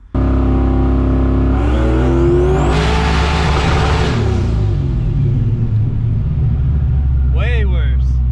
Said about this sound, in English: Sound like a damn machine gun.